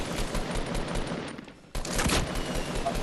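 Rapid gunfire in the battle royale video game Fortnite, a dense burst of shots that cuts out abruptly for a moment, then resumes loudly.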